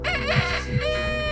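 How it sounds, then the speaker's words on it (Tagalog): A rooster crows in two rising, drawn-out calls over a steady low background hum, clear and fairly prominent. "hanggang sa marinig namin ang unang tilaok ng manok sa malayo"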